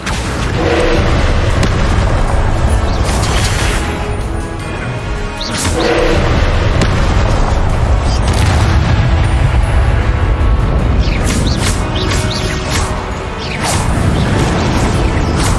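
Confringo spell blasts in Hogwarts Legacy, loud booming explosions and whooshes in a dense continuous barrage of game combat sound.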